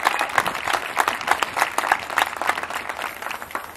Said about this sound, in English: give a round of applause for that great performance of our national anthem